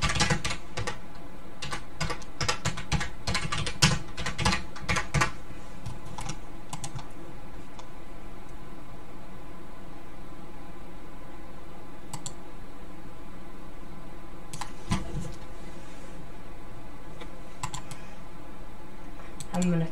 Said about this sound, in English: I'm gonna keep typing till this goes away